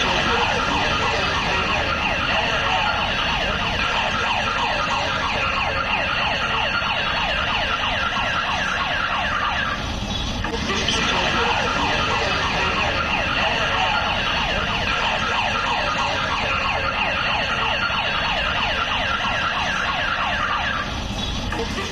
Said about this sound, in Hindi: लाल किले में सायरन बजा करके लोगों को अलर्ट भी किया जा रहा है